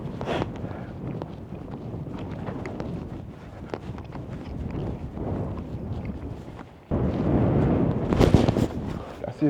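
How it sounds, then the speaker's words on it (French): Wind buffeting a microphone atop a coastal cliff near the Antifer lighthouse, low rumbling gusts with a louder burst near the end, and voices talking intermittently under the noise. "C'est assez venteux."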